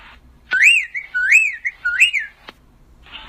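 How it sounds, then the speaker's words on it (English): A whippoorwill whistles a series of clear, looping rising-and-falling notes, three close phrases in a row framed by sharp clicks, near and alone with no other sound. "Whippoorwill."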